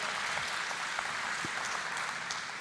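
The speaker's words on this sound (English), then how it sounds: "Give a big round of applause for Next Bio." Audience applause fills a startup contest finals hall, a dense, steady wash of many hands clapping at once that holds at an even level from start to finish.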